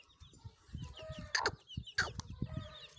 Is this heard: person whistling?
no